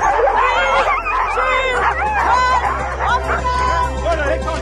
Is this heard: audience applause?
no